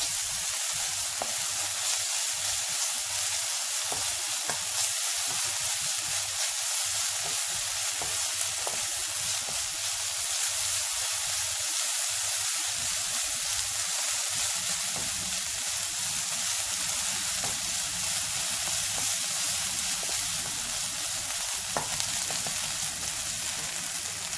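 Ginger and garlic frying in a pan, a steady, dense sizzle and hiss that runs unbroken for the whole stretch, close and fairly loud, with no voices.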